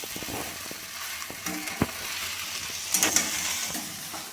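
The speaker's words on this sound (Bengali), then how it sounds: "এবার আমি আস্তে আস্তে করে আমি নাড়িয়ে নেব।" Flattened rice being stirred into fried vegetables in a pan, a soft sizzle with light scraping strokes and a few small clinks, quiet and close.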